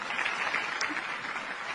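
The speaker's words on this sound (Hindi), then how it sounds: "वो तो तालियां बजानी शुरू कर दी" Applause and clapping patter as a dense, moderately faint wash of claps that continues evenly for a couple of seconds.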